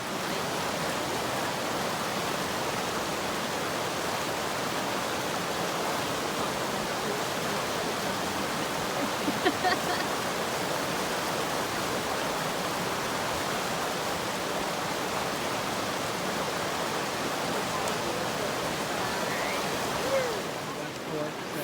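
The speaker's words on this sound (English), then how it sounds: "time to put on my river shoes and get across it." River water rushing at a hiking-trail crossing on the Pacific Crest Trail, a continuous broadband flowing roar that stays steady and close for the whole stretch, with no voices.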